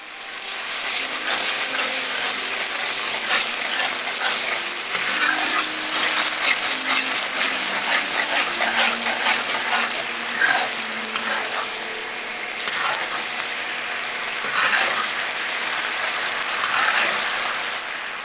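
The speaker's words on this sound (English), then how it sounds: "On medium-high heat, in goes the sauce to make the gravy. As it boils, it will thicken." Cambodian lok lak sauce boils over medium-high heat in a pan as it thickens into gravy, a continuous close bubbling, sizzling hiss with faint stirring and no speech.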